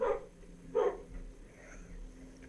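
Dog in the Minecraft video game letting out two short, sharp barks about a second apart, fairly close, followed by quiet game background.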